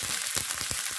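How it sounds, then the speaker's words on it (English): Fresh garden curry leaves crackle and sizzle in popping hot oil for a Kerala-style egg curry, a dense, steady frying hiss with small sharp pops, close and loud, with no voices. "When it's popping, what we do, we put the curry leaves."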